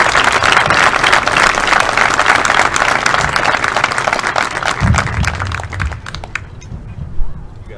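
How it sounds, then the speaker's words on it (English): Banquet crowd applauding football award winners, sustained dense clapping that thins out toward the end with scattered claps and a few voices. "Please give this group a round of applause."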